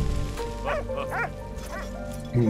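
A few short dog barks and yips from a dog in the video game Valiant Hearts sound over steady background noise and game music, fairly close and moderately loud.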